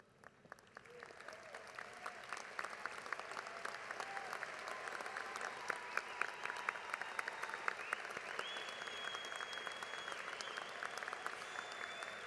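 Steady applause from a large audience at a university commencement ceremony, continuous and dense clapping throughout, with a faint tone sustained in the background.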